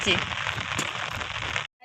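Heavy rain pours steadily onto a roof, a dense continuous hiss throughout before cutting off abruptly near the end.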